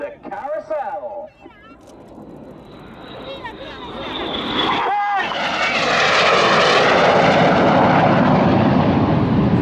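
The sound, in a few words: aerobatic jets flying carousel manoeuvre at airshow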